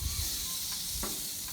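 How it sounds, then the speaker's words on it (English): Rib eye steaks sizzle on a hot barbecue as a constant loud hissing crackle close up, with a few sharper pops. "you'll see the beautiful sizzle that this is going to create because it's nice and hot"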